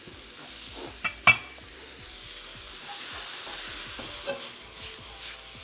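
Peppers being stir-fried in a hot wok for a Cantonese takeaway dish give a steady sizzle and hiss, with a couple of sharp clanks of utensils against the pan and no voices.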